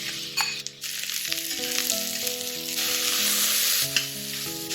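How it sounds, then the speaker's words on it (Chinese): Chopped mushrooms sautéing with garlic in melted unsalted butter and a little oil in a deep pan over medium-high heat, a strong continuous sizzle and hiss with stirring, close and loud, alone. "再加入切碎的蘑菇"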